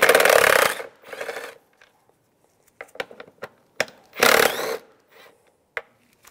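A 10mm socket wrench loosens two bolts at the mass air flow sensor of a 2006-2011 Cadillac DTS, giving loud bursts of harsh ratcheting between scattered sharp metallic clicks and taps close by, with no talking.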